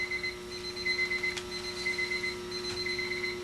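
Several alarm clocks sound together in a room, their steady electronic tones layered over a constant hum, moderately loud and continuous without voices.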